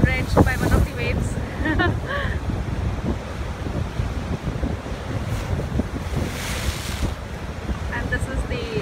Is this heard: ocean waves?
yes